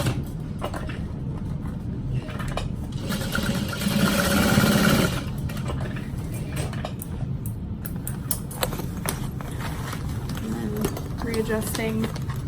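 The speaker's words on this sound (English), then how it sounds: "Okay, so I'm sewing up the side corners." A sewing machine stitches the side corners of a fabric bag in a steady rapid whir, starting and stopping in bursts while a person talks over it.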